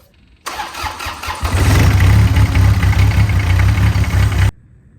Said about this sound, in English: let's fire the tractor up.